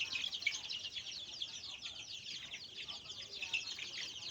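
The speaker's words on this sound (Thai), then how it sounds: "ลูกไก่บ้าน แล้วก็จะเป็นนี้ไก่บ้านนะครับ รุ่นแรก" Young domestic chicks in a brooding pen make a dense, continuous chorus of high, thin peeps and soft clucks that overlap without pause at moderate volume.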